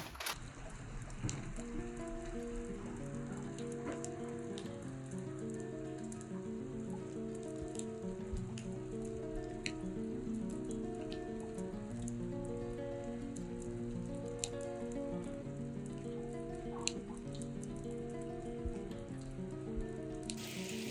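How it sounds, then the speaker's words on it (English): Heavy rain pours down steadily at an outdoor RC model event in Buxton, a dense continuous patter with sharp drops hitting surfaces close by for the whole stretch, no voices. "it's raining like Billy-o"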